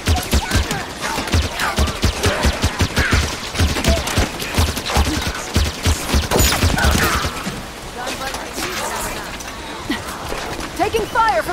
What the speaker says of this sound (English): Taking fire from the ledge! Enemy fire!